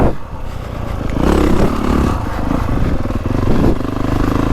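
A 2025 Honda CRF450R Works Edition dirt bike rides around a muddy motocross track, its four-stroke engine droning steadily and rising in loud, continuous revving with some clattering from the bike, and no talk.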